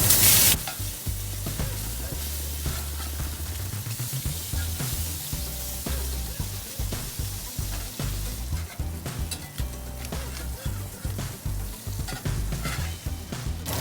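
Fish fillets frying in a pan over medium-high heat, a steady close sizzle with scattered crackles and soft scraping beneath continuous background music.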